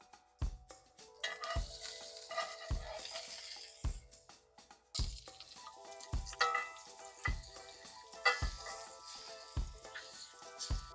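Smash burgers frying on a braai pan, a continuous sizzle and crackle with regular metallic scraping taps from pan work repeating about every second, close and fairly loud, no voices.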